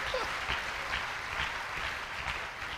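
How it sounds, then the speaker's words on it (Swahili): Steady, dense applause from a church congregation, many hands clapping together at close range for the full stretch without pause. "Tumpikie tena Mungu makofi."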